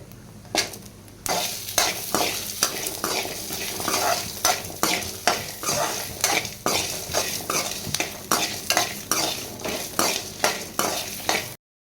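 Whole onions and garlic sautéing in hot oil for a brinjal gravy, steady close sizzle broken by a regular rhythm of spoon scrapes and clanks against the pan, no voices.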